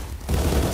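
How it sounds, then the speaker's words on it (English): A grenade in the VR shooter Contractors goes off as a brief, loud, low rumbling blast that swells after a short quiet moment and fills the rest of the clip. "That's a grenade."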